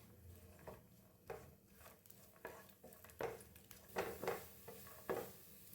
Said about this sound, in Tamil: இந்த தேங்காய் வந்து நம்ம நெய் கூட சேர்த்து நல்லா வறுத்துக்கலாம்